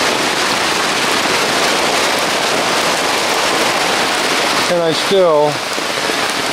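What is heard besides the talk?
heavy rain falling on pavement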